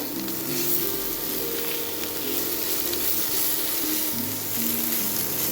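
Radish leaves stir-frying with sugar in a pan, a steady loud sizzle with soft stirring scrapes running throughout.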